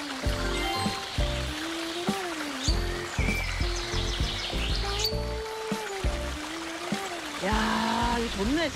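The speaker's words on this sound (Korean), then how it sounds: "이 물소리 들리세요?" Stream water trickles and flows steadily outdoors on Jeju Island, a soft continuous babble beneath overlapping speech and singing, with occasional bird chirps.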